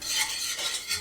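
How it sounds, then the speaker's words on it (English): A spoon working garlic around a hot pan in a steady, constant stir, a close scraping hiss that swells and fades in rhythmic sweeps. "Just grab a spoon here, and you want to give this a stir pretty constantly because this garlic will burn if left unattended"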